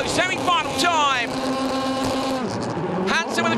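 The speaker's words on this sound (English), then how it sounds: "The revs are up. Here we go, semi-final time." Rallycross cars at a 2019 FIA World Rallycross semi-final start in Abu Dhabi rev hard with rising, sweeping engine notes, close and loud, under a commentator's voice.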